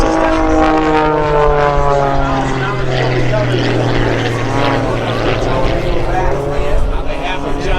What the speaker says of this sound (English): And above him is Mr. Jeff Boerboon flying in extra 300L